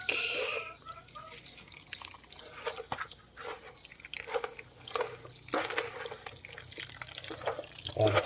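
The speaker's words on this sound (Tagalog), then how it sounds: "Lagyan natin ng konting tubig." A little water is poured and drips into a mix of papaya and coconut feed for native chickens, giving faint splashes and trickles with some handling noise.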